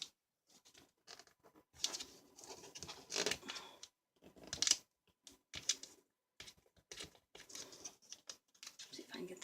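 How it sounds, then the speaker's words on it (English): Old tape peeled slowly off a box of gift tags, heard as scattered short crackling and ripping bursts separated by pauses, close up and fairly quiet. "See if I can get this old tape off without tearing it up."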